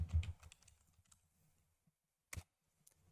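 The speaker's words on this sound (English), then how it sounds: "I'm going to type in my GitHub email address" Someone types an email address on a computer keyboard, producing a quick burst of soft, close key clicks, then a sparse pause and one sharper key press.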